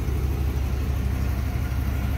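A 1957 Hudson Hornet engine idles steadily with a low, even rumble, close and continuous throughout.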